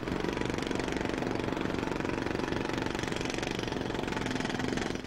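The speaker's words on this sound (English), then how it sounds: "Loud machinery or tools." A loud motor-driven machine runs steadily, a dense rapid knocking chug like an engine or jackhammer that stays constant and close throughout, with no speech.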